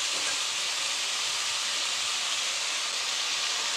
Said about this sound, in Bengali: আমি সবজিগুলোর সঙ্গে ভেজে নিচ্ছি কিছুক্ষণ ধরে।